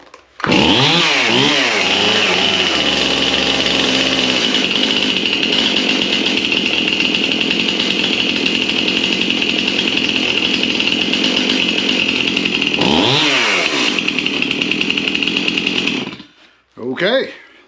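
A repaired Stihl MS271 or MS250 chainsaw engine starts with a few revs, then runs at a loud, steady high-pitched whine. It revs again near the end before cutting off into a brief sputter and quiet.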